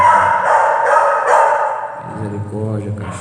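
A dog barks several times in quick succession, loud and close, with a person's voice speaking alongside.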